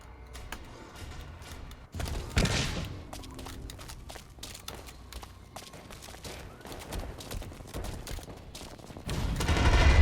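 Rapid automatic gunfire from the online shooter game Blacklight Retribution crackles continuously in dense bursts, with louder shots and a rising swell near the end, and nobody speaks.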